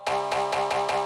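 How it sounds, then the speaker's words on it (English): Bright metallic cowbell synth hits for a phonk track, repeating in a quick, even rhythm with a ringing, buzzy tone. "Now you want to find a cowbell sound like this,"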